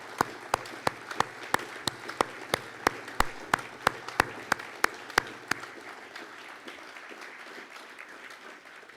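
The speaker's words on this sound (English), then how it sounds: "let's thank them from the bottom of our hearts with a rousing UKIP round of applause." Applause from a conference audience at a UKIP regional gathering, sharp loud claps ringing out over a steady round that fades toward the end.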